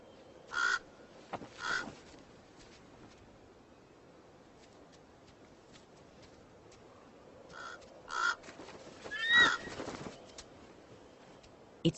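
A raven calls out in a series of harsh, croaking caws, spaced in two pairs and a final louder cluster, moderately near against quiet outdoor background.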